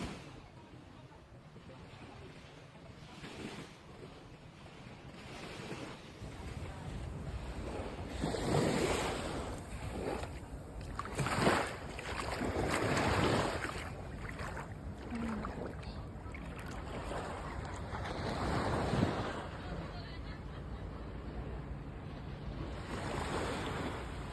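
Ocean waves wash onto the seven-mile white sand beach at Negril, Jamaica, rising and falling in soft surges under steady wind noise.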